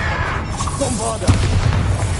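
Bombarda spell blasts in Hogwarts Legacy, a booming magical explosion with a sharp burst near the middle and a rumbling tail, mixed with game effects and voices.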